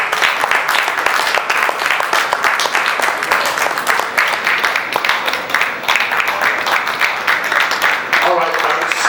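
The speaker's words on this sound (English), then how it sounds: "Please, can we keep giving her a round of applause?" Applause from an audience at an entrepreneurship and innovation summit in Nigeria, steady dense clapping filling the room throughout, with a voice briefly speaking over it toward the end.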